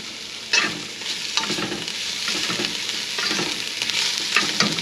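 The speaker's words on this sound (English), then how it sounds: "I like my tomato paste to fry out so I don't have that sharp metallic taste to it." Tomato paste fries in a pot with basil, a continuous close sizzle with bursts of spitting and the scrape of stirring, no voices.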